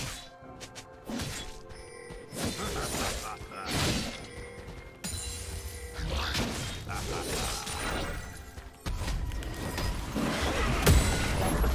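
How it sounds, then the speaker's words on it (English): A turret is destroyed in League of Legends, amid a dense, fairly quiet run of crashing, shattering impacts and mechanical clatter that repeats through the whole stretch. "These turrets have been destroyed."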